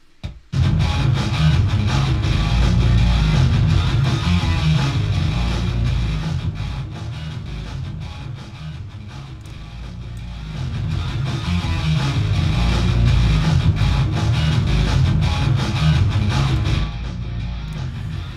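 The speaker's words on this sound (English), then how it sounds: "this crush effect gets more and more subtle the harder you push the overall gain" A crush distortion effect adds crackle and grit to a looping music section, producing a dense, saturated wash that swells and dips in loudness and plays alone without talk.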